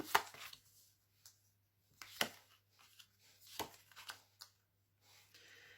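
Tarot cards being cut and shuffled by hand: a handful of short, crisp card slaps and riffles spaced irregularly, close and fairly quiet, with a steady low hum beneath and no talking.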